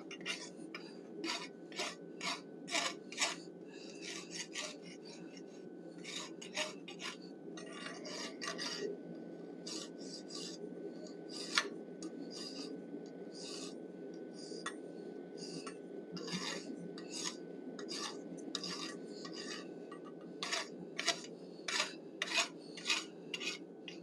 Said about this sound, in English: I'm using a hot rasp.